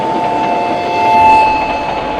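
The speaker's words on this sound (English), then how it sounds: "A train is coming!" A toy train rolling along miniature tracks in a staged model construction scene, a steady mechanical rumble with a faint tonal whine that swells briefly in the middle and then eases, close and continuous.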